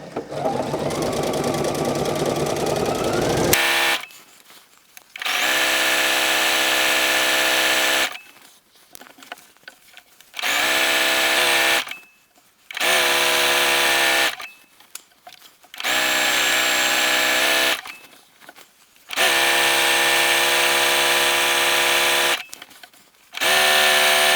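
A home sewing machine stitches a zigzag seam on a sweater, running in five or six loud bursts of a few seconds each, separated by short pauses while the fabric is adjusted.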